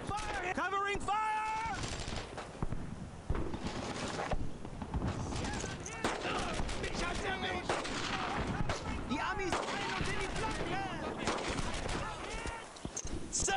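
Dense gunfire in the World War II shooter Brothers in Arms: Earned in Blood, with rapid rifle and machine-gun bursts, distant booms and a horse's whinny, continuous and loud under shouted voices.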